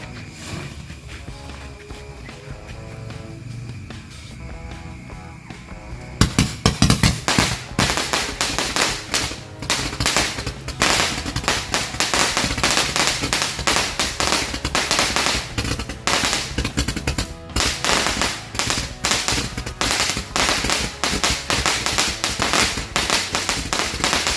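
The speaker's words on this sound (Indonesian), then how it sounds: "Itu dia mercon Dynamite VMAX." A VMAX Dynamite firecracker goes off after a quieter fizzing start, then erupts into a long, rapid, loud chain of crackling bangs that keeps going to the end.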